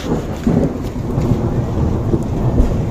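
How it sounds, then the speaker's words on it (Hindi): Loud, deep thunder rumbles close by over steady rain falling on a village rooftop during a March storm. The sound runs continuously and no one speaks. "देखो बादल भी गरज रहे हैं।"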